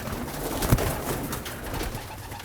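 Racing pigeons in a loft, with soft low cooing under a muffled, noisy background and a brief thump, close but faint.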